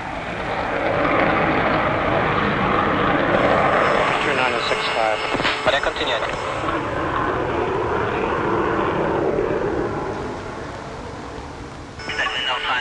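A loud Bundeswehr training jet on final approach, around 1979, roars overhead, a broad sustained engine rush that stays steady for most of the clip, with voices mixed in underneath.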